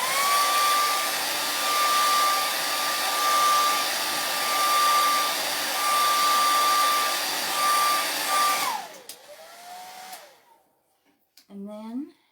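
A dryer blows steadily on wet white paint on a chalk craft board, a loud constant whirring drone with a fixed tone, then switches off and winds down, leaving brief faint handling sounds.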